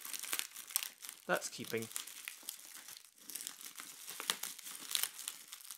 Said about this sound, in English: cutting apart the sticky tape or clear packing tape